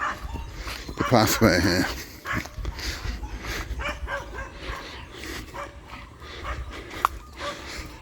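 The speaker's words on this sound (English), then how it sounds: "I've been barked out." Dogs living in a tunnel under a walking path bark and yip, with a burst of loud barking early on and scattered whimpers after. Someone talks nearby throughout.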